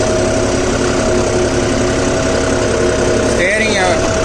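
A John Deere 5405 CRDI tractor working with a cultivator runs loud and near with a constant throbbing engine drone, and a brief voice cuts in over it near the end.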